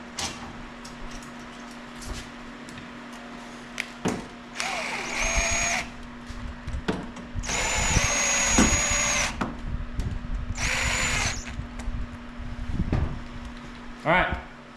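A power drill drives fasteners into the side brackets of a roof rack on a first-generation Toyota 4Runner, running in several short bursts of a few seconds each, close by, with a steady hum underneath and someone talking in between.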